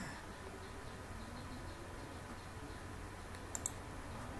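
A computer mouse clicks OK in SPSS statistics software: two quick, faint clicks close together near the end, over a quiet room hum.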